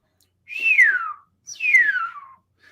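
Two descending whistling tones of a natural radio whistler wave, each gliding from high to low pitch, separated by a short pause, clear and close with no other sound.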